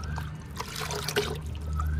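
Liquid fertilizer poured onto potted flowering and fruiting plants, a soft continuous trickle and dribble of liquid, close and steady, with no talk over it.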